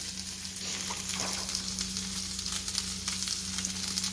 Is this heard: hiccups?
no